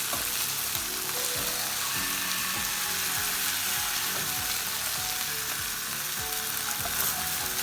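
Meatballs fry in a pan for stuffed tomatoes, giving a steady, loud sizzle with crackling spatters and recurring scraping or stirring knocks throughout, no voices.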